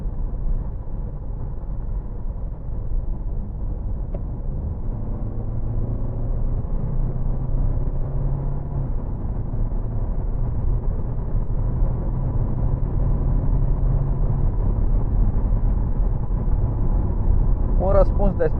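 A Hyundai Santa Fe 2.2 CRDi diesel with an automatic gearbox accelerates from about 70 km/h in third gear in traffic, a steady low engine drone heard from the cabin, building slightly as it pulls.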